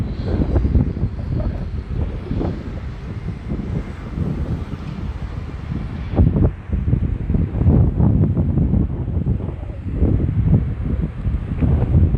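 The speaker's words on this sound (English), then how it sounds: "the wind is picking up out here" Strong wind blows outdoors near a fire burning in a river bed, buffeting the microphone with loud, continuous low rumbling gusts that surge and ease throughout, with no voices heard.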